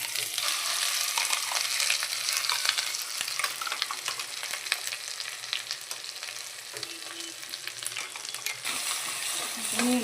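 Ground masala paste with green chillies sizzles and fries in oil for a dumpling-curry gravy, a steady close crackle with scraping stirs throughout and no talk.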